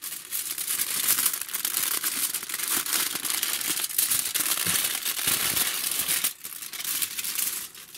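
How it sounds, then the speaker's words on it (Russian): Very thin aluminium foil is handled and crinkled: a dense, continuous crackling rustle lasts throughout, fairly close and loud, with one brief dip before the crinkling resumes. "Это очень тонкая фольга."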